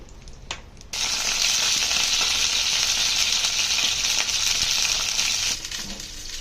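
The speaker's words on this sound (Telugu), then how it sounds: "కట్ చేసిన వంకాయ ముక్కలను వేసుకొని వేయించుకోవాలి" Cut brinjal pieces hit hot oil in a pan and sizzle loudly, a steady bright crackle that starts abruptly after a second and holds nearly unchanged before easing slightly at the end.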